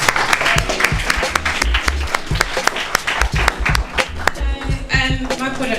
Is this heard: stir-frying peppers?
no